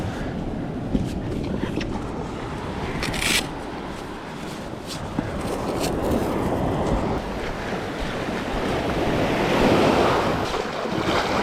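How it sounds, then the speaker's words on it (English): Surf breaks over a sandbar on the Perth coast, a loud, continuous wash of churning water close to the microphone, with wind buffeting the mic throughout and a brief swell of crashing water near the end. "Oh, the tide's high. Oh no, a wave."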